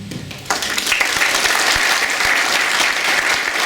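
An audience at a conference opening ceremony breaks into loud, sustained applause after a quieter start, dense clapping filling the room for several seconds.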